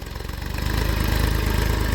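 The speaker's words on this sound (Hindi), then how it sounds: "लो में इंजन पे लोड कम पड़ता है, इंजन की जान बची रहती है" A power tiller engine chugs in low gear with a steady, loud, close throb that builds slightly partway through and then holds, with no voices.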